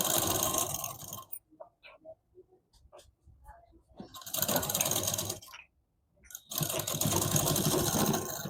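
A sewing machine runs in bursts while stitching a double katori blouse, each run a loud steady mechanical whir broken by short pauses and small clicks of handling between stitches.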